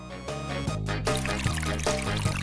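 Liquid cherry jelly pours into a tube in a steady, close stream, with a brief break partway through before the flow resumes, heard alone without voices.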